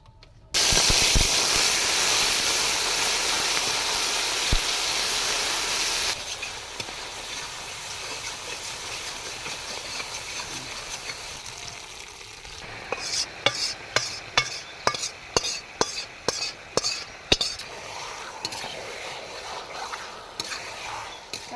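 Meat curry with whole garam masala cooking in a large wok over a wood fire, beginning with a loud steady hiss that eases to a quieter simmer, then a run of rhythmic scraping stirs near the end.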